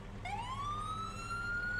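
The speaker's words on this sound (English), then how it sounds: "sirens and beacons." A rescue vehicle in Farming Simulator 22, a dark blue truck with a matte black hood, kicks on its siren. One rising electronic tone sweeps up and holds steady, loud and close.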